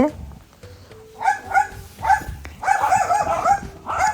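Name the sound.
two puppies barking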